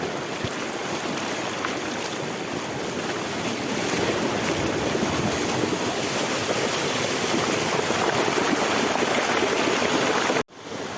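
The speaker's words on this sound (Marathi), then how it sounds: "ओसंडून वाहनाला एक कोकणचा असा धबधबा आपण पाहू शकता" A Konkan-style waterfall pouring in full flow, a steady, dense roar of rushing water that holds at a constant loud level throughout and cuts off abruptly near the end.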